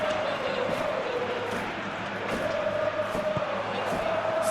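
Crowd noise from a Real Madrid versus Arsenal Champions League quarter-final in a football simulation video game, a steady stadium roar with a sustained chant tone, while a commentator talks over it.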